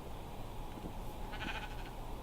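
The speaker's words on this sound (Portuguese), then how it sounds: "Ovelha, aceite esse trigo. Caramba, que ovelha chata." A sheep in the Minecraft video game bleats a couple of times, short game-sound calls over a steady background of noise, with no talking.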